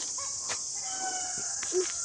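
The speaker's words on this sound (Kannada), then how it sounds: "ಅಲ್ಲಿ ಕೋಳಿ ಎಲ್ಲ ಕೂಗಿದು ಕೇಳ್ತದಲ್ಲ" Roosters crow from somewhere nearby at a rural Karnataka home, short thin calls cutting through a steady high insect drone, with no voices.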